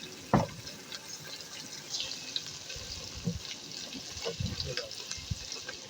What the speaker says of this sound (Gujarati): બસ થોડું પાણી નાખવાનું